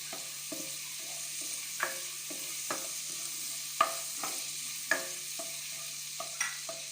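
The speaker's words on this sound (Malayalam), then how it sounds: "ആ ഒരു പച്ച മണം മാറുന്ന വരെ നമുക്ക് നല്ലപോലെ ഒന്ന് വഴറ്റിയെടുക്കാം" Sliced green chilies and onions sauté in a pan for a Kerala-style prawn roast, with a steady soft sizzle broken by regular clacks and scrapes of a spatula stirring, close and without talk.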